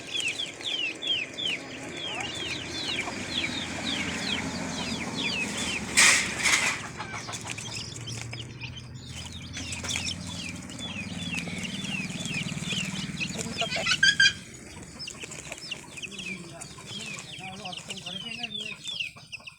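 Laying hens cluck and chirp again and again close by, with bursts of wing flapping, while someone talks over the flock now and then.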